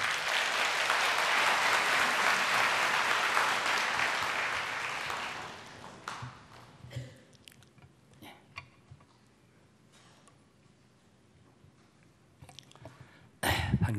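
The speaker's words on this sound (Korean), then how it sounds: "우리 목사님 더 큰 박수로 우리 환영합니다" A church congregation applauds to welcome the pastor at a Sunday service, a dense, loud round of clapping that fades out after about six seconds, leaving scattered claps, small noises and a brief burst at the end.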